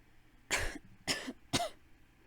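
Three harsh coughs in an audio drama, evenly spaced about half a second apart, close and fairly loud against a quiet background, with no talking.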